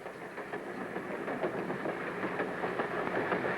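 A train running on rails, with a steady rumble and a rhythmic clickety-clack of wheels over track joints, moderately loud and continuous, no talk.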